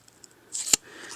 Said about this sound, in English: Just let your scissors do the work for you.